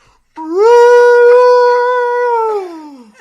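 A person imitates a Sasquatch howl call in the woods at night, one long sustained rising then falling howl lasting about three seconds, loud and close, with no other sounds.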